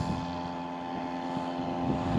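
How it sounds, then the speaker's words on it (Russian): Small Chinese Hangkai 3.5 hp outboard motor pushing a 2.6 m boat with one passenger on the Oka River, a steady buzzing drone with sustained tonal whine, fairly faint amid wind. "Китайский мотор Ханкай."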